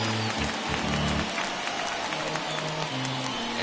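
A baseball crowd of about 34,000 fans at a Twins–Brewers MLB game rising and applauding, a steady wash of distant clapping and crowd noise throughout.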